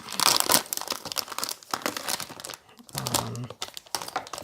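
Plastic packaging of an HDMI to VGA adapter being cut and torn open, loud crinkling and tearing bursts in irregular spurts, close by.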